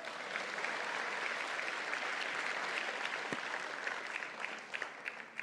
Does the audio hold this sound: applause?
yes